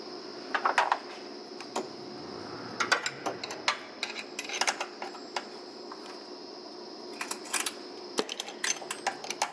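Metal wrench clicks and ratcheting taps sound in scattered clusters while loosening the harmonic balancer bolt on a Honda B18C1 engine, close and fairly quiet over a steady background hum.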